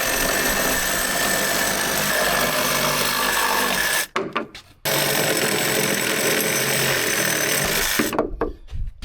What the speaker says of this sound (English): Harbor Freight Review, the best Sawzall I've ever used